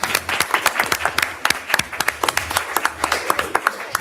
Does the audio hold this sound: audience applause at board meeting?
yes